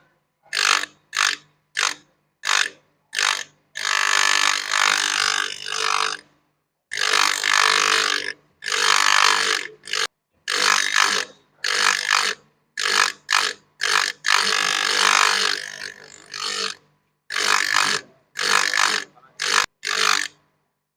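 A drill bit is ground against a bench grinder, giving repeated loud bursts of harsh grinding, short contacts alternating with longer sustained passes across about twenty seconds, close up and with no talk.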